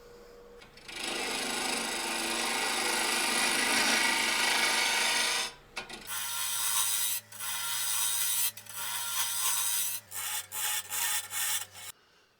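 A lathe tool cuts into a spinning maple burl, peeling off shavings with a loud continuous rasping scrape, then a run of shorter bursts as the cut starts and stops over a low motor hum.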